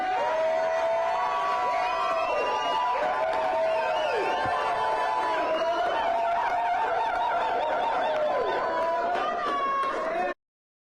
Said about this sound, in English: Such an electric crowd at Crystal Watson's watch party this evening